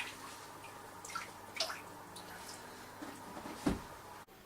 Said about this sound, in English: wash it through with a bit of water to get the excess dye off of it